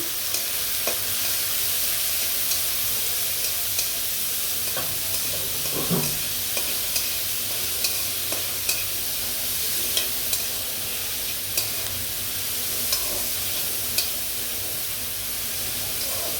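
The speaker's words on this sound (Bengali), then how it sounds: "পেঁয়াজটা আমি ভেজে নেব" Onions frying in a pan for chicken curry after garlic browns give a steady, close sizzle and hiss, with regular scraping stirs and clinks of a spoon against the pan throughout.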